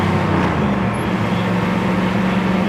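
A 1964 Chevelle Convertible's engine runs while driving, still cold, giving a loud, steady low rumble with constant road and wind noise and no change in pace.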